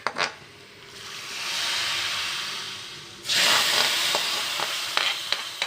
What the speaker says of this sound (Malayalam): മുളക് പൊടി ഇട്ടു മൂപ്പിച്ചു